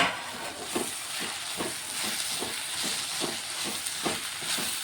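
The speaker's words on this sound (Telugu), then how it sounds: "దీనికి ఆనియన్ ఇంకా కొంచెం ఫ్రై అవ్వాలండి" Onions fry in a pan with green chillies and curry leaves for an egg curry, a steady close sizzling hiss with soft, evenly spaced stirring strokes underneath.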